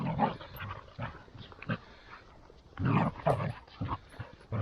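Dogs barking at a distance on a quiet countryside walk through Derbyshire, a scatter of muffled barks and yips coming in irregular bursts, faint and well back.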